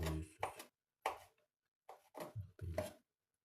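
Knife chopping crab sticks on a board, a few quick bursts of close, crisp cuts separated by short pauses, with no talking.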